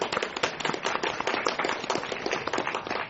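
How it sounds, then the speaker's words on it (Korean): Dense, loud applause from a seated audience clapping for the actors at a short-film festival screening Q&A, a continuous crackle of many hands with no talk over it. "잠깐 박수 부탁드리겠습니다."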